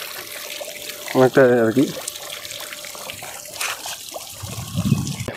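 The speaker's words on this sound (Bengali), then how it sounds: "এ দেখো ঝর্ণার জল" Water from a waterfall at a farm house resort flows and splashes in a steady background wash, while a voice speaks briefly over it and other sounds come and go.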